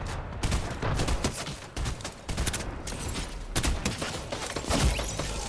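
Rapid bursts of gunfire from a Fortnite duos match crackle in quick clusters, some overlapping, loud and sharp with brief gaps between volleys.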